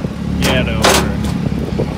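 A Can-Am Maverick X3 side-by-side drives up trailer ramps, its engine rumbling steadily and close by, with a few louder surges. People talk over the motor.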